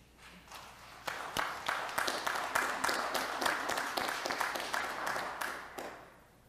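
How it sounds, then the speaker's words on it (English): A church congregation at a traditional Sunday service claps for the mothers, with applause swelling quickly from a few hands into a sustained crowd round and then tapering off at the end. "Let's give the mothers a round of applause"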